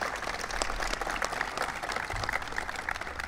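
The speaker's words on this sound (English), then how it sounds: "Please give them a big round of applause." An audience at a small-business event applauds governors who stand to be recognized, producing continuous, dense crowd clapping at moderate level throughout.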